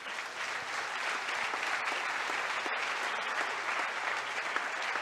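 A church congregation applauds during a worship service, with steady, full clapping that carries evenly from start to finish and no voices above it.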